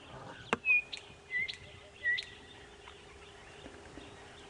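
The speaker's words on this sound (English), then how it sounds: "that lovely call there is the chin spot batis." A chinspot batis gives three clear, descending whistled notes spaced about a second apart, fairly faint against a quiet outdoor background during a safari game drive, with a sharp click near the start.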